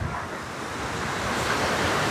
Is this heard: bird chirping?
no